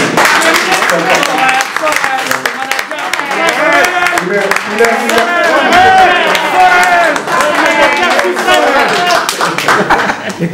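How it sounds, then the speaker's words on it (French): An audience claps at a Paris press conference announcing a concert. The clapping is loud and continuous, with talk and voices layered over it throughout. "un bel applaudissement pour cette brillante présentation"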